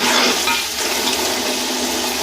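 One kilogram of peas tipped into hot frying masala for matar pulao, giving a loud, steady broadband sizzle and watery hiss that carries evenly through the whole short moment, with no talking.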